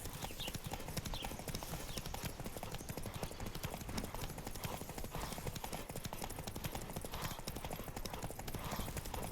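Rapid, continuous hoofbeats of a galloping horse in the video game The Witcher 3 pound steadily and close, with no pauses and no voices.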